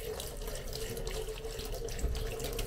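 A kitchen tap runs steadily, water splashing continuously as ingredients for a pumpkin seed health tea are rinsed underneath.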